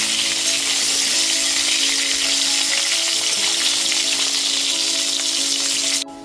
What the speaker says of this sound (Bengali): পটলগুলোকেও আলু মতন করে লাল করে ভেজে নেব